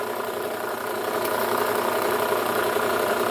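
A belt grinder fitted with a 120 grit belt sharpening KitchenAid kitchen knives, giving a loud, steady motor drone with a rough grinding rasp that holds constant for the whole stretch, no speech.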